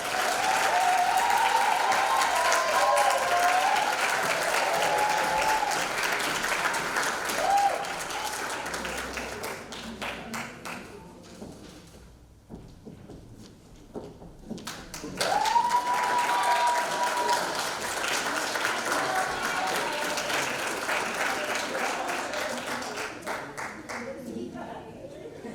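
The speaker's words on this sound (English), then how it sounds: "give one last really good round of applause for all our" Applause from a large audience at a film school graduation ceremony, sustained and dense, easing off briefly midway before a fresh loud wave, with a voice speaking over it.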